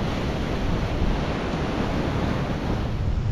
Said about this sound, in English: The wind has picked up quite a bit now, these guys are braving the wind and high waves at Pulpit Rock